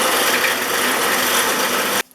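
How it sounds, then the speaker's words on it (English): Worn 150 grit sandpaper rubs the flat spring of a Stanley No. 5 1/2 SW jack plane, a close, steady rasping scrub that stops abruptly near the end. "Going to clean up the flat spring with a kind of worn out piece of 150 grit sandpaper."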